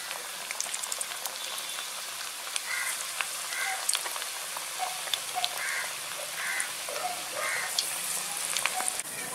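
Snack pieces frying in hot oil in a Tamil home kitchen, a steady dense crackling sizzle with scattered bubbling pops, close and continuous with no talk.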